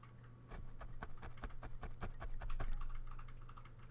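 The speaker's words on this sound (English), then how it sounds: "Typing numbers." Rapid, uneven clicking of keys on a computer keyboard, close and fairly loud, in a quick burst over a low background hum.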